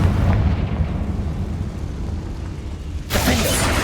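A Confringo blasting spell explodes in the Hogwarts Legacy video game: after a steady low rumble, a single sudden loud burst erupts near the end and stays full and roaring.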